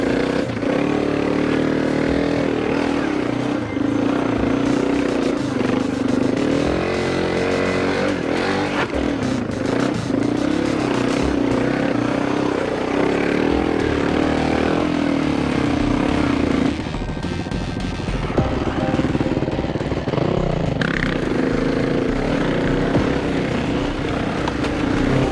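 Dirt bikes riding cross country through rough bush near the Kennedy Ranges, a loud continuous engine drone with revving and clattering over uneven ground, close and steady throughout.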